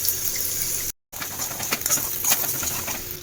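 Onion, green chilli and beaten egg fry in hot oil for an egg kuruma, with a steady, close crackling sizzle that drops out for a moment and then resumes.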